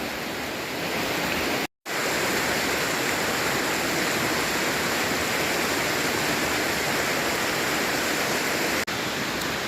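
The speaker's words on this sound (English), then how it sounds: "Another small waterfall here." A small waterfall in Ricketts Glen State Park pours in a steady, full rushing roar, close and constant, with only a brief dropout early on.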